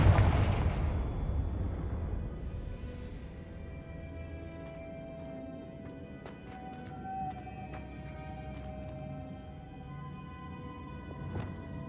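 A Confringo explosive spell blasts in the Hogwarts Legacy video game: a heavy low boom opens, then a long rumbling decay with scattered faint crackles and pops, no speech.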